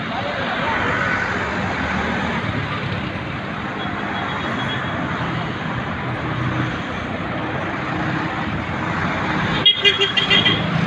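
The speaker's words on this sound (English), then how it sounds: "As you can see, our traffic here is moderate." Busy road traffic rumbles steadily and close by, with a couple of short car horn toots near the end.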